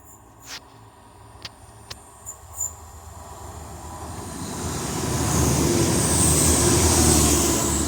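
A Class 158 train approaches Castleton station, its rumble and rushing roar building steadily into a loud, broad wash of noise as it passes close by.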